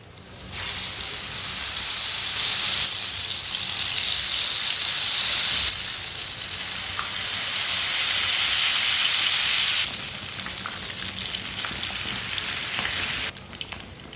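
Egg-dipped bread slices sizzle in hot oil in a pan, a loud, dense, crackling hiss that runs continuously and changes level in steps as pieces go in, with no talking.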